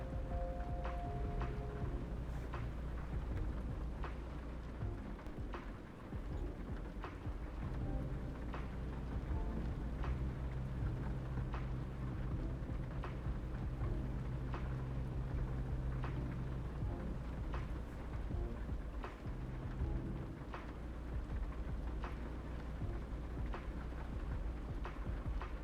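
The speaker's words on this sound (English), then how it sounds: "It's raining pretty heavily" Heavy rain pours in a steady, even wash, fairly quiet overall, with a low continuous rumble beneath it and no voices.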